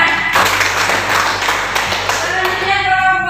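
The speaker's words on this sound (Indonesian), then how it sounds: "terima kasih. Tepuk tangan." Classroom applause, a dense burst of many hands clapping at once for about three seconds before it fades, with faint voices underneath.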